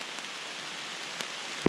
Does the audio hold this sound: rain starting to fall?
yes